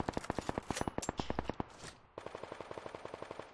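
Rapid automatic gunfire from the video game Knives Out comes in two loud bursts of evenly spaced shots, the first burst irregular and the second steadier after a brief pause.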